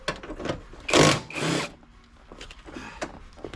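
A tool works on the 14mm seat bolts of a 2000s Mazda MX-5 NC1, giving a loud close burst of ratcheting or whirring near the middle. Softer clicks and handling noises come before and after it.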